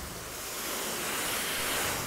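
Water spraying steadily onto a screen-printing screen at a washing station, a constant broad hiss that swells slightly and continues without a break.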